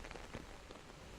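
Raindrops fall on a window with a soft, continuous patter, quiet and steady throughout, with faint scattered taps.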